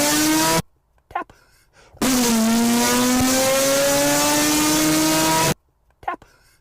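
A car engine revs in sustained rising and falling tones while shifting gears by button, with two long loud stretches broken by brief gaps where a voice speaks.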